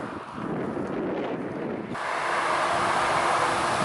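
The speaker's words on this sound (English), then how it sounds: "This wind is fierce." Strong headwind roars over the microphone while cycling into a chilly southwest wind, a steady broadband buffeting that grows louder and denser after the first two seconds.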